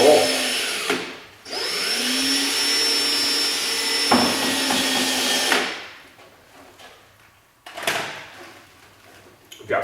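A drill whines into Hotbodies Racing motorcycle bodywork for a Honda CBR1000RR in two close, steady bursts of several seconds each, followed by quieter handling and shuffling sounds.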